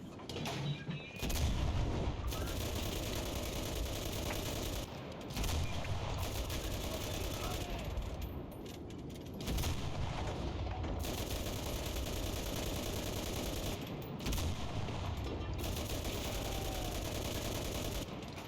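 Gunfire in the World War II shooter game Enlisted comes as loud bursts of rifle and machine-gun shots with heavy booms, in several long volleys separated by short lulls.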